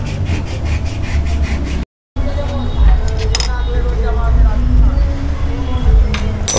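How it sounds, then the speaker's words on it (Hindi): A Royal Enfield motorcycle sprag clutch assembly is cleaned in a workshop: continuous scraping and rubbing with occasional metallic clinks, under someone speaking. "क्लीन कर रहे हैं स्पार्क क्लच की असेंबली को।"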